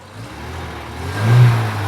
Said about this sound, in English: So let me throttle a little bit.